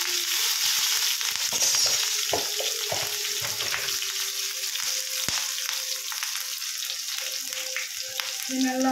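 Mustard seeds, cumin and chopped green chilli fry and sizzle in hot oil in a pan, a continuous loud crackling hiss with sharp pops and a few stirring scrapes.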